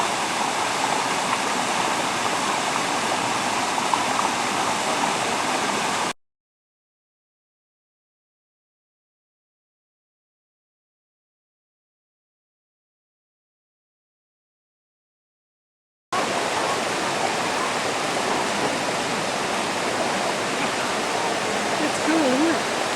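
Oak Creek flows through Red Rock State Park near Sedona, a dense, steady rush of water heard close, cutting out to silence for about ten seconds mid-way before the same rushing resumes.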